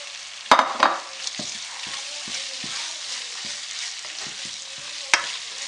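Grated potato fries with onion in oil, giving a close, steady sizzle broken by sharp spatula scrapes and clacks from repeated stirring, with a few louder knocks.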